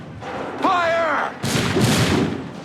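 A musket volley fired on command in Assassin's Creed 3 crashes out as one loud broad burst after a shouted order, then trails off into rumbling noise.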